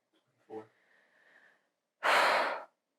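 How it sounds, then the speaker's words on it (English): Heavy breathing during a prenatal yoga class: a short sharp inhale, then quiet, and a loud, long breathy exhale close to the microphone, with a faint hum of talk between. "Oh, I'm having such a hard time breathing."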